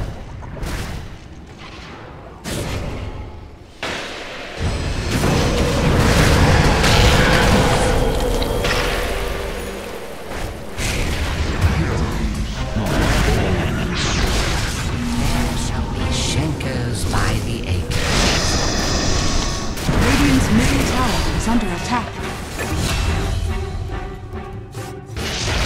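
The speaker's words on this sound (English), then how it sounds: "Dire's middle tower is under attack. Radiant's middle tower is under attack." Dota 2 towers under attack, with dense explosions, booms, whooshes and impacts piling up loud and continuous. A voice announcer speaks over the battle several times.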